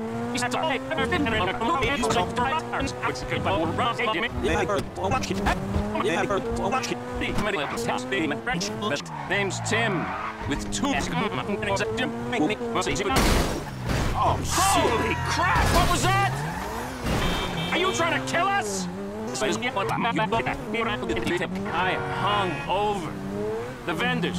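A car in GTA 5 drives fast, its engine revving hard through gear changes, with tire squeals and skids throughout. Game characters talk over the loud, continuous engine noise.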